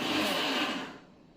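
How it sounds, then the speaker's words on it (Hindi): A kitchen mixer grinder running close by, a loud whirring motor roar that winds down and fades over its last half second. "हाँ, मिक्सर ग्राइंडर आवाज़ कर रहा है।"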